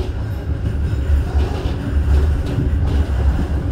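The KA Sancaka Utara passenger train turns onto track 4, heard from inside as a heavy continuous low rumble of wheels and carriage with faint periodic clunks over the rails, steady and close, with no talk.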